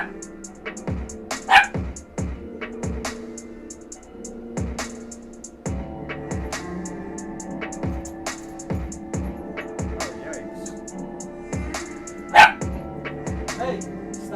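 A dog barks in scattered bursts, some sharp yips among them, while a person talks intermittently nearby.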